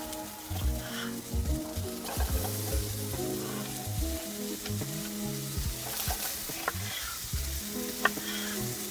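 Chickpeas cooking on a preheated pan outdoors in a backyard kitchen, a loud crackling sizzle running throughout with scattered pops and stirring clatter, close up with no voices.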